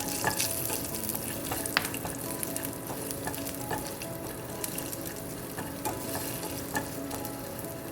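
Plantain and squash fry in a pan while being stirred, a steady close sizzle broken by sharp scraping taps of the utensil throughout, with no voices.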